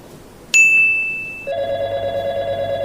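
A phone rings with an incoming call: a sharp tone sounds once, then a steady repeating electronic ringtone plays clearly and fairly loud in a quiet indoor room, with no talking over it.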